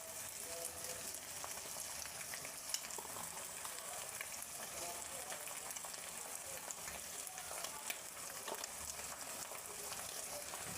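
Meat and eggs frying with tomato in a pan, a steady, soft sizzle with light crackles and occasional faint stirring clinks, continuous throughout.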